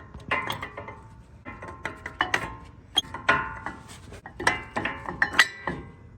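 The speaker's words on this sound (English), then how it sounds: "Now that we've installed the hardware on the brake pads, we're going to put them back. Let's slide them in." Brake pads are slid into the front caliper of a Lexus GX 460, with a rapid series of close, bright metallic clinks and scrapes in irregular bursts.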